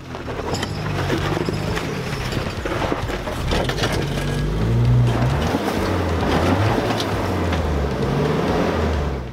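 A Suzuki Jimny engine labours steadily while climbing a rocky boulder hill off-road, a loud continuous drone rising and falling with throttle, with mechanical clatter from the drivetrain and rocks.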